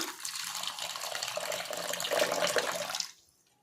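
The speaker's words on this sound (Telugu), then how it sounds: "దీంతోపాటు మనం నీళ్ళు పోసుకుంటాము." Water poured into an iron kadai for a henna hair dye mix, a steady close rushing splash lasting about three seconds before cutting off abruptly.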